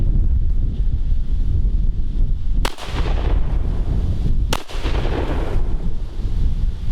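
Two loud shotgun blasts from a Baikal MP-153 firing 3.5 inch shells outdoors, about two seconds apart, each a sharp broadband crack with a short decaying tail over steady wind noise.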